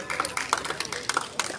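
An audience at an SFI panel welcome event claps in scattered, uneven bursts, moderately loud and fairly close, with a few hands rather than a full roaring crowd.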